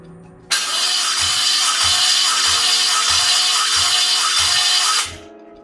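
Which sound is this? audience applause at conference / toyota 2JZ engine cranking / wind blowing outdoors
toyota 2JZ engine cranking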